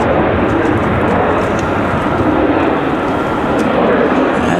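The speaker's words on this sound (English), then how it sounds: "you hear Southwest setting one down over there behind us" A Southwest airliner lands at Raleigh-Durham International Airport, a loud, steady roar of engine and rushing air heard continuously from some distance outdoors, without talk.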